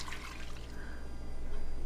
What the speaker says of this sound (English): I'm going to add the brine